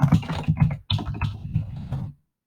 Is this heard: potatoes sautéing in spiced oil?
no